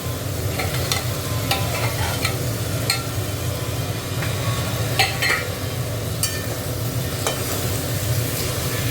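Minced meat sizzles steadily in a hot pan for khichuri, a dense continuous fry with occasional sharp crackles and stirring scrapes, close and loud with no talk.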